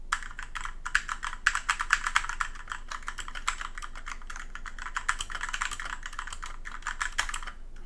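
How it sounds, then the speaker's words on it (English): Rapid, steady typing on a Ducky One 2 Mini keyboard with Cherry MX Silver Speed switches: dense, crisp key clicks close to the mic, fairly loud and continuous for several seconds with no talking. "this is what the silver speed sounds like."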